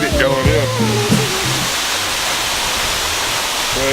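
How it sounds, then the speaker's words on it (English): A mountain waterfall in Fukuoka, Japan roars as a loud, steady wash of dense noise, close by; a voice speaks briefly over it at the start. "Go check out this waterfall."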